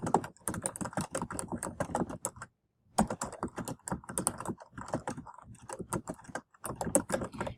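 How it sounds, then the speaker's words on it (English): Someone types a title on a computer keyboard, producing dense, close-up runs of crisp key clicks that stop briefly for a gap of near silence and then start again at a fast, uneven pace. "So I'm going to type in my title."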